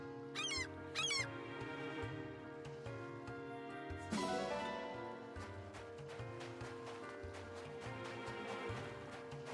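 Cat meowing in the video game Fire Emblem Engage, two short high meows near the start over steady game music, then music continues alone.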